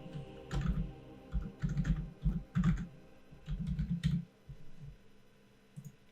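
A password typed on a computer keyboard in quiet bursts of soft, close key clicks with short pauses between groups, no talking.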